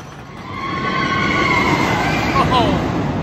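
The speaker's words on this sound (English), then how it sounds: "there's definitely a train that goes through the Twister here." A train rumbles past at steady volume through the wooden Twister roller coaster at Knoebels, with a high metallic squeal from the wheels rising near the end.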